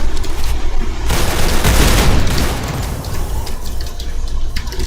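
A grenade explodes in the Call of Duty video game, a loud broad boom that swells and fades over a couple of seconds amid ongoing gunfire, with no talk over it.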